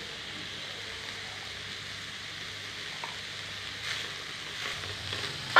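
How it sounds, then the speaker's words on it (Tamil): Chicken mince and onion sauté in a pan for chicken kola urundai, giving a soft, steady sizzle with faint stirring scrapes near the end and no voices. "சிக்கன் கோலா உருண்டைக்கு அந்த கறி வெங்காயம் எல்லாமே நல்லா வதங்கிருச்சு"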